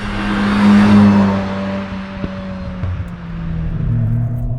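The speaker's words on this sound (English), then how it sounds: "So right now, the car is in quiet mode. It's got a little bit of burble when I lift off the throttle." A VW Golf R with its exhaust in quiet mode gives a low, subdued burble off the throttle, a close rumbling drone that swells, eases back and picks up again, with no talking.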